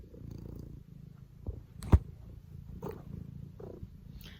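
A close-up cat purrs in a soft, steady rumble just by the microphone, with a few faint rustles and one brief sharp bump partway through; no talking.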